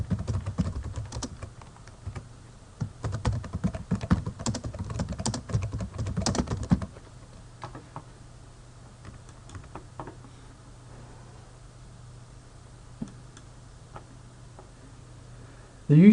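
Rapid typing on a computer keyboard fills the first few seconds with dense, close clicks, then thins to a few scattered keystrokes over a low hum, and a voice briefly overlaps.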